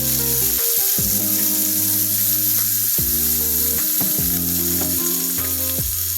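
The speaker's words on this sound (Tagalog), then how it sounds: "At hinulog ko na rin ang patatas. At ito'y gigisahin ko ulit hanggang sa mag-brown siya." Potatoes sautéing in a pan with soy sauce give off a continuous close sizzle and crackle, heard under steady background music.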